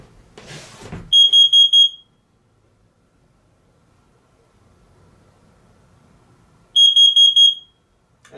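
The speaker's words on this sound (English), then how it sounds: "There's my carbon monoxide alarm." A carbon monoxide alarm sounds two short bursts of loud, high electronic beeps, about four pulses each, separated by several seconds of near silence, after a brief rush of noise at the start.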